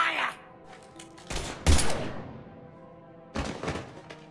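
Gunfire in the Mass Effect 3 video game: a few loud bursts of shots land in separate clusters, with quieter game sounds between them.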